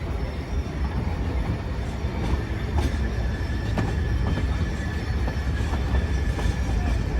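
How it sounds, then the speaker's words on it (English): A 1951 General Electric diesel-electric locomotive hauls cars on the Georgetown Loop Railroad in Colorado, a steady rumbling roll with wheel clatter and faint squeals, heard close and continuous for several seconds. "It is a diesel electric locomotive built by General Electric in 1951."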